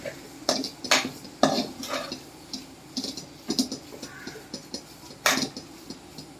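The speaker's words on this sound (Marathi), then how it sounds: "हे परत आपल्याला असं छान हलवून घ्यायचं" A spoon stirs pithla, a gram flour dish, in a pan, with intermittent scraping strokes and light metallic clinks over a faint background sizzle, close by and with no talk.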